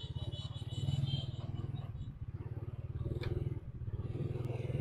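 A motorcycle rides along a rural road near the Bát Tràng pottery village on a Sunday. Its engine throbs in a close, rapid, steady pulse, with light clatter and scraping over the top.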